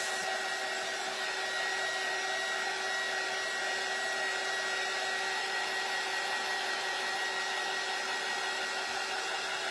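A hair dryer blows steadily on a craft kit door hanger, a loud continuous whirring hiss with a faint tonal whine that holds unchanged from start to finish, with no voices over it.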